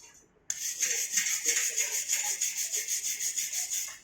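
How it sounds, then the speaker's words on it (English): A wire brush scrubbing a welded steel butt joint between two plates, rhythmic back-and-forth bristle scraping starting abruptly and continuing in loud, close, even strokes. "Then you can take a wire brush,"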